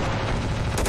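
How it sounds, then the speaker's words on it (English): Gunfire and artillery in the video game Ravenfield, a dense, loud continuous barrage of battle noise with a sharper burst near the end of the brief moment. "that guy just got hit with artillery."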